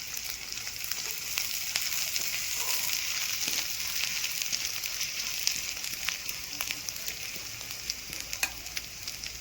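Ginger, garlic and grated coconut paste sizzles steadily in hot oil with cumin seeds, with a continuous close frying hiss and scattered small crackles and stirring ticks, no talking.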